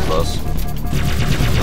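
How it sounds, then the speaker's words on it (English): Rapid gunfire from the Halo 3 video game on a Legendary run, a dense, continuous burst of shots and impacts filling the whole moment at close, loud level. "Who's shooting me? Oh. I was like, who the heck's shooting me?"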